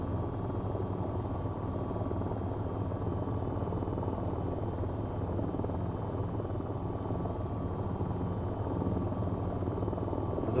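A helicopter flying low in the VTOL VR flight game drones with a steady, loud rotor and engine hum through the whole stretch, with no voices over it.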